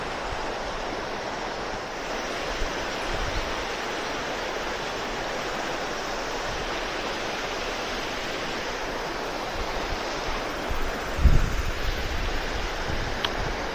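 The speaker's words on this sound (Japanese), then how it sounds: "やべえ、雨強くなってきた。" Heavy rain pours by a mountain stream, a dense, steady hiss of rain and rushing water with a few brief thumps, and no voices.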